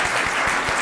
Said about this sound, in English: If you could please just give those facilitators one more round of applause.